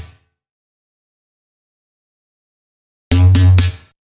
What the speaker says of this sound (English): Then the third one is a bass pluck.